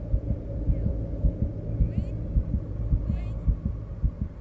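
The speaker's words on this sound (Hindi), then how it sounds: "ये आपका दिल है, रेलगाड़ी से धक धक धक धक धक धक धक कैसे चल रहा है?" Steady heartbeat sound effect in a Hindi TV serial scene, a quick, regular double-thump pulse repeating throughout at close range, with a faint low hum beneath and brief bright chimes twice.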